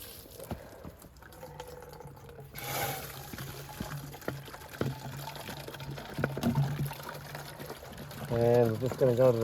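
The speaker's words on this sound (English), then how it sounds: "I'll fill it up with water." Tap water pours into a garden pump sprayer as it is filled to the one-gallon mark with Taurus TC termite insecticide, a steady trickle rising in pitch near the end, with talk over it.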